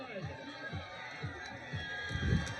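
A stadium crowd at a women's American football game roars in a broad, distant wash, while a commentator talks over it.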